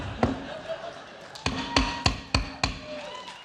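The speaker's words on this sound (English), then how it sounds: "This is the sound of a gavel." Gavel strikes at a live comedy podcast show: one sharp knock, then a cluster of four or five loud wooden bangs in quick succession, heard over crowd murmur and light room noise.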